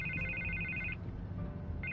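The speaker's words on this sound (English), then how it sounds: "I can't get the phone to stop ringing." A telephone rings in Batman: The Telltale Series, repeated electronic trilling bursts with a short pause between rings over a low ambient hum.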